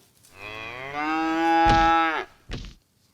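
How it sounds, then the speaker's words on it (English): A single cow moos loudly and nearby, a long drawn-out low call that ends with a short grunt. "Now all the cows are gonna die."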